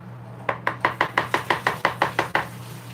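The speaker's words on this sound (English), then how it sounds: "I'm gonna go in there with the hand mixer and kind of just try to blend everything in" A hand mixer blends banana pudding ingredients in a bowl, its steady motor hum carrying a quick, even series of about a dozen knocking beats, close and fairly loud, with no talking.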